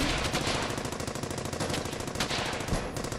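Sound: machine gun suppressing fire in Brothers in Arms video game

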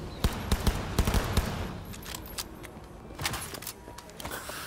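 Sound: gunfire in video game Cyberpunk 2077

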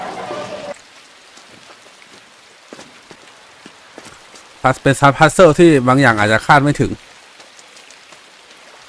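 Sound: rain falling in the video game INSIDE

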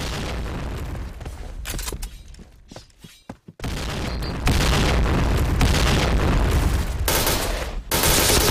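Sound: grenade explosion in the video game Point Blank

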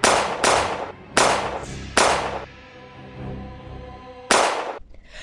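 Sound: gunshots in Resident Evil 2 Remake video game

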